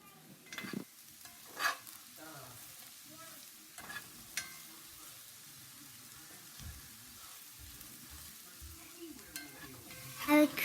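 Potatoes seasoned with turmeric and salt frying until crispy, a soft steady sizzle broken by several louder scrapes and knocks of stirring in the pan, close and without talk.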